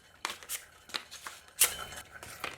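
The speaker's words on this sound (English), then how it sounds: "fold it in half, and swipe it along the rod to impart a charge" A folded cardboard paper towel roll is swiped along a plastic rod, giving several quiet, brief scraping rasps at an uneven pace, close up.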